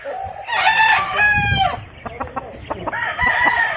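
A roundhead cross gamefowl rooster crows loudly and close, one full cock-a-doodle-doo followed by clucking and a second shorter call, with other fowl sounds around it in a backyard.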